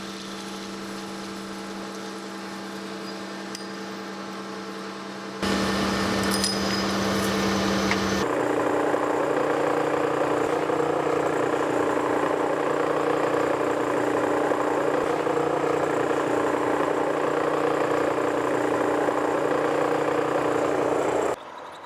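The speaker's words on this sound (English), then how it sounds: "I'm making these from 5-inch 304 stainless steel round bar, and I'm making just one at a time and parting them off on the lathe" A lathe parts off a flange from 5-inch 304 stainless steel round bar, giving a steady, fairly loud mechanical whirring drone with a tonal hum that carries on for most of the stretch after a quieter start.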